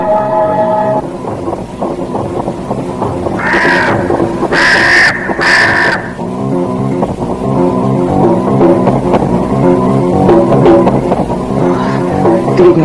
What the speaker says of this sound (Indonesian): Kedua burung itu saling pandang beberapa saat, lalu terdengar mereka berteriak lagi.